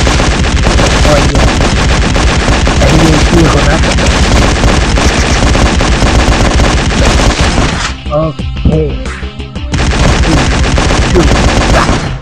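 Sustained rapid gunfire from the zombie driving game Zombie Roadkill, a loud, dense stream of shots and booms that breaks off briefly near the end before resuming, with someone talking over it.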